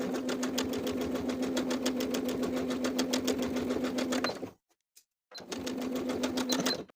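A sewing machine edge-stitches the folded top edges of athletic shorts, running in a fast, even clatter, pausing briefly, then stitching again close up.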